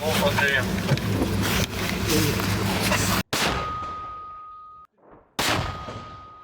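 Loud, continuous windy rumble gives way to two sharp, heavy mortar blasts, each cutting in abruptly and followed by a fading rumble.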